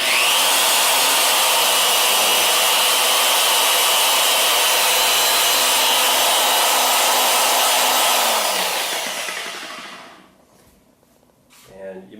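A Clover Detailing CT9000 long-throw car polisher runs at its slow-start speed setting, giving a loud, steady close whir that winds down and fades out near the end.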